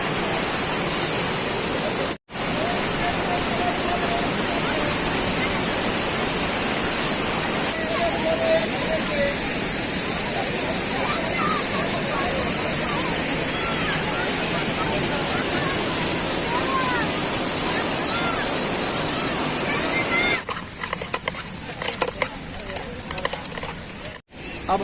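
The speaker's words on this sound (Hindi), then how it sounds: "ये है शानदार नज़ारा उसरी फॉल का" Usri Falls in Giridih roars with a continuous, loud broadband rush of falling water that fills the whole scene, with voices faintly audible over it.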